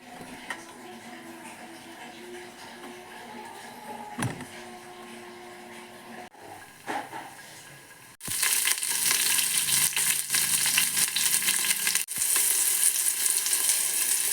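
Carrot, tomato, cumin and vegetables frying in a pan for Mangalorean butter rice, a quiet sizzle with a few clatters that turns into loud, steady frying hiss for the second half.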